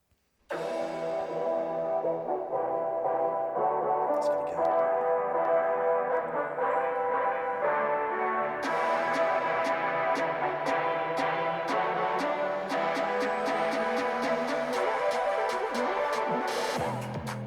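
Music with layered tones plays continuously through the small speakers of a Lenovo Legion 9i 18-inch gaming laptop at 50% volume, steady and fairly loud, with brighter percussive accents entering in the second half.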